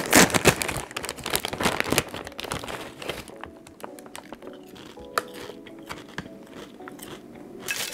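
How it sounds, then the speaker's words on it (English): Trader Joe's White Truffle Potato Chips crunched and chewed up close, loud crisp bites followed by softer chewing and bag crinkles, no voice. "these are the Trader Joe's White Truffle Potato Chips."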